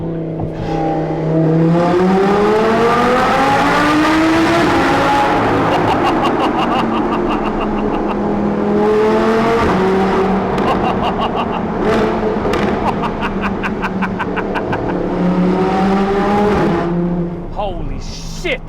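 An Audi R8 V10 Plus revs hard through a tunnel on a hillclimb drive, rising engine pitch sweeping up and down with crackling bursts at the shifts, very loud and echoing, with excited voices and laughter over it.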